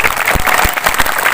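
A crowd at an Isra Mi'raj religious commemoration claps steadily, a thick, loud wash of many hands with scattered sharper claps rising through it.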